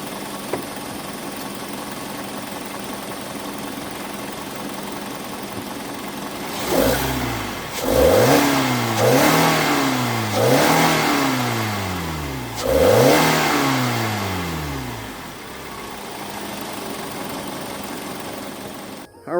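A Kia Forte 2.4L engine with the stock airbox idles quietly, then revs up three times in quick blips, each rising and falling back, fairly near and subdued, with a final rev starting at the end.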